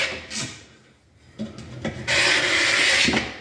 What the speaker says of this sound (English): we're gonna scrape with a chisel like so